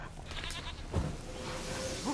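A goat bleats in the video game The Witcher 3, a short faint cry rising out of low, steady game ambience.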